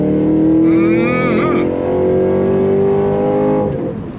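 A supercharged Cadillac Escalade-V SUV accelerates hard from a launch, its loud, close engine holding a rising, steady roar for several seconds before easing off near the end.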